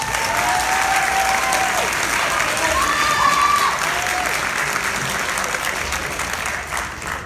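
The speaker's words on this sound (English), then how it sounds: "Can we give them a round of applause?" Audience applause fills a sports banquet hall, steady and full throughout, with a few voices calling out over the clapping before it thins slightly toward the end.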